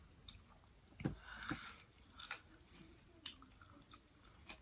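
Quiet close-up chewing of spicy chicken joints, with a few sharper crunchy bites and soft wet mouth sounds spread over several seconds, no speech.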